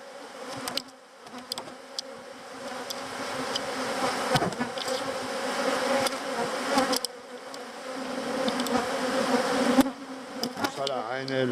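Dense honeybee buzzing at an open hive with a very large colony and brood across the frames, a steady close swarm drone with occasional brief knocks and handling noises.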